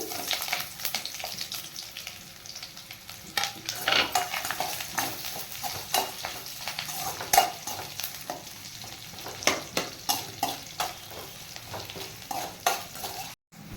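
Onions fry in a pan with chana dal and curry leaves, giving a steady sizzle. Repeated stirring scrapes and clinks sound close by throughout.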